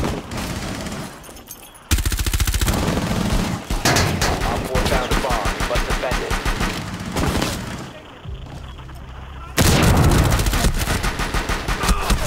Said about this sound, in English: There's still someone shooting through the windows at B.